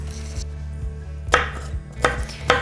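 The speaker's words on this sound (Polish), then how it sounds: "Ananasa kroimy w grubą kostkę." A knife chops fresh pineapple into thick cubes on a board, giving several sharp, close thuds with uneven spacing and quieter cutting sounds between them, with no voices.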